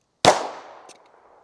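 A single handgun shot cracks out sharply and loudly, its ring decaying over about a second, followed by a faint small click.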